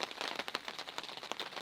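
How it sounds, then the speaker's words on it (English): Hail falls outdoors, a dense, fairly faint patter of many small, irregular impacts hitting surfaces close by, with no voices. "It's hailing right now."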